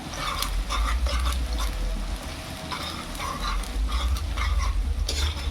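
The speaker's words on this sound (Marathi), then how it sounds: "गॅस फास्ट ठेवूनच कांद्याचा लाल कलर होतोपर्यंत तळून घ्यायचा आहे आपल्याला" Onions fry over high gas until browned, giving a steady close sizzle with irregular scraping and stirring bursts throughout.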